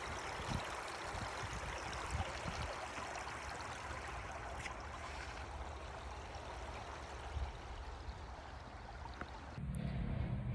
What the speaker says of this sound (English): I love water features though.